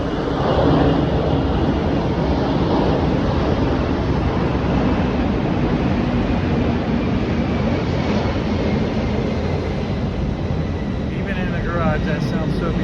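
A Boeing 747 roars steadily overhead, a loud continuous rumble filling the whole clip, with faint voices mixed in beneath the engine noise.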